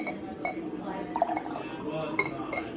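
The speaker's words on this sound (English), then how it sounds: "All right, now we've got to pour this water." Water is poured into a container, trickling and splashing with small glassy clinks at moderate loudness, while voices talk faintly in the background.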